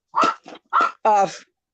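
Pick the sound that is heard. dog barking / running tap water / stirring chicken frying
dog barking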